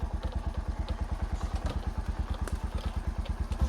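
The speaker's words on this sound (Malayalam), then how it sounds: "ബൈക്കിനാണ് പോണത്" A motorcycle runs at a steady throbbing pulse throughout, the engine's rapid regular beat loud and close, with a few light rattles and no talk.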